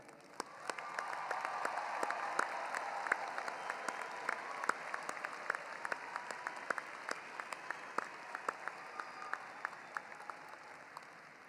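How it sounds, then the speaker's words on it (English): Crowd applause at a university undergraduate commencement ceremony, a broad, sustained wash of clapping that swells early and holds steady, heard from a distance in a large hall with scattered sharper claps standing out. "Let's pause for some applause here."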